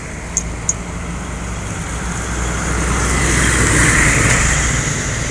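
A Universitas Sriwijaya bus passes on a road near the Palindra toll gate outside Palembang, its engine rumble swelling steadily over continuous traffic noise, with a couple of sharp clicks early on.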